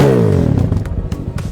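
A 300cc motocross motorcycle engine with a short wheelbase revs loudly and close by. Its pitch sweeps down, then settles into a rough, clattering idle with quick throttle blips.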